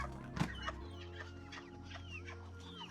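A Golden Comet hen clucks close by in short soft bursts, with other quiet clucks and rustling around it.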